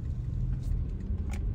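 Rush-hour road traffic rumbles past a moving car, with a steady low engine drone and brief passing swells, close and continuous with no talk.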